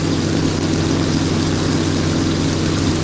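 Vintage aircraft piston engines run up on the ground at Nanton, a steady loud droning rumble with strong low harmonics that holds constant throughout with no voices.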